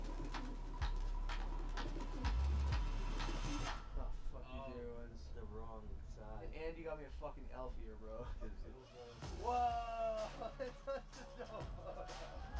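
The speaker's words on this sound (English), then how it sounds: "It's a lot of pigeons." A flock of pigeons coos in soft, repeated throaty bursts, sounding close and overlapping, with a voice talking over the start and a steady low hum underneath.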